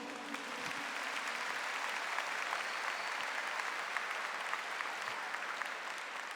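Sustained applause from a church congregation at a Catholic charismatic gathering, a dense, steady wash of many hands clapping that holds evenly throughout without talk on top.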